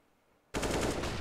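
Rapid automatic AK rifle fire in Counter-Strike on the Train map during a competitive esports match, a loud sustained burst that breaks in abruptly after near silence and holds steady to the end.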